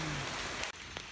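Torrential tropical rain in Bali pours down as a dense, steady broadband hiss, close and continuous, with a brief dip in the rush near the end.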